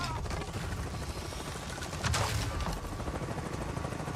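Gunfire rattles in the video game Avatar Frontiers of Pandora, a dense, continuous burst of shots with a sharper, louder crack about halfway through, over a constant noisy din.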